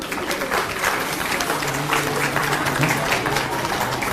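An outdoor crowd at a shopping festival in Chandni Chowk, Delhi, claps in a continuous, moderately loud patter that runs throughout, with a murmur of voices underneath.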